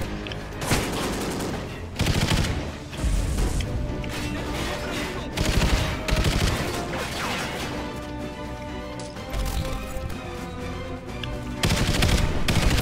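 Rapid bursts of automatic gunfire and crashing impacts from the video game Call of Duty Ghosts come in loud, repeated volleys with short gaps between them.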